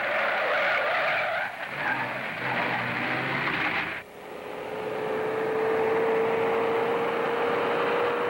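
A car skids out of control in a 1941 film scene, with a loud, sustained tire screech that breaks off abruptly and gives way to a rising engine whine, with no speech.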